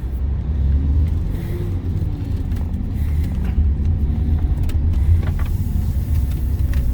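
A Toyota Veloz car makes a U-turn, with a steady low engine and road rumble close by and faint interior noises above it.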